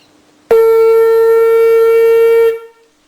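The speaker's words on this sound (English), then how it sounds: "Playing the shofar, like I said before, is just like playing a brass instrument." One loud, sustained shofar blast holds a steady, brassy note for about two seconds, then stops abruptly, with nothing else around it.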